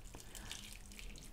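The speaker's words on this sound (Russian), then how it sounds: "Льем смело. Смотри, как она проливается в рельеф." Liquid plaster pours into a botanical relief mold, giving a soft, steady trickle and faint dripping splashes, quiet and close, with no talk.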